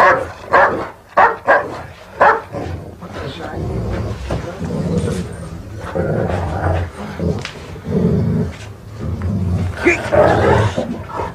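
A dog barks and growls in repeated bursts, loud and close, mixed with people talking and shouting over it.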